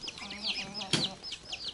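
Backyard village chickens cluck and chirp while pecking at a pumpkin cut in half, with several overlapping calls close by, one louder rustling burst in the middle, and no talk.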